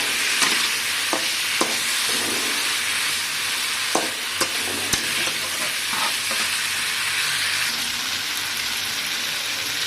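Fried chicken pieces and fried potatoes stirred in a pan with melted tomato masala, a steady close sizzle broken by sharp clicks of a spoon against the pan, with no talking.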